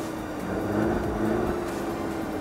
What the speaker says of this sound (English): Here's a little exhaust preview for you guys.